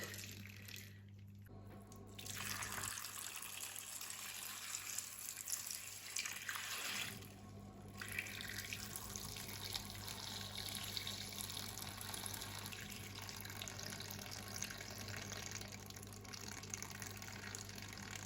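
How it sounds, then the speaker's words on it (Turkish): Settled lime water pours steadily over cut pumpkin pieces for pumpkin jam, a soft continuous gush and trickle of liquid with no break. "kabağımızın üzerine çıkana kadar bu kirecin durulmuş suyunu dökeceğiz"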